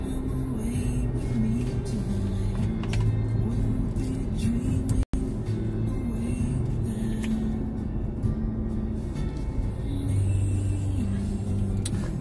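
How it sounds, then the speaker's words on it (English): A car cruising along a road in eastern Switzerland in fine weather, with a steady engine and tyre rumble heard from inside throughout, shifting slightly in pitch, and one brief sharp click partway through. "I'm driving from where I live to where I work"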